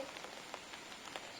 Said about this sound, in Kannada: ಮಳೆಗಾಲದಲ್ಲಿ ಮಳೆ ಜೋರು.